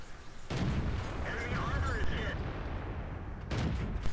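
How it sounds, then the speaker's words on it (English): Tank cannon fire in a World of Tanks-style battle on the Erlenberg map: a loud broadband blast at the start, a sustained rumbling battle din through the middle, and a second heavy shot near the end. "so I'm going to start firing at him"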